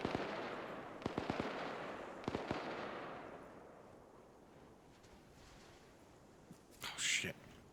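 Distant gunfire in an Arma military game, with rifle shots and M203 grenade launcher fire heard as scattered sharp cracks and thuds over a rushing, wind-like wash that fades, followed by a short burst of noise near the end.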